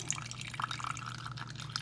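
Water from grated cauliflower wrung out in tightly twisted cheesecloth drips and trickles in a kitchen, a faint run of small irregular drops over low background hum.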